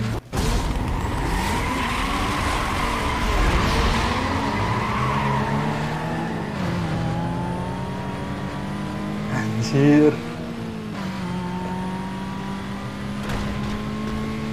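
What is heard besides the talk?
Volkswagen Golf GTI racing and skidding in the video game Need for Speed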